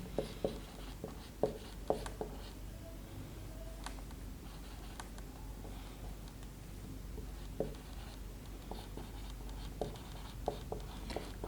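Chalk or marker writing on a board during a class 11 maths lecture, giving faint, irregular tapping and scratching strokes at a quiet level, with occasional brief gaps between words.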